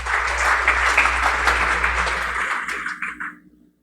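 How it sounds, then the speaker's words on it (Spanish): Church audience applauding a helper during a service, loud full clapping over a low hum that thins out and fades away in the final second. "Un aplauso a la Monse que me ayudó."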